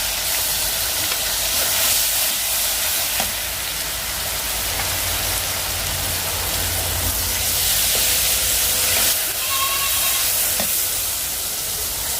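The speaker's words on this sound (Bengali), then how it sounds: "আমি এখন তরকারিটা কষায় দেবো" Taro (kochur mukhi) curry frying with spices in a pan, giving a steady close sizzle and hiss that carries on without a break.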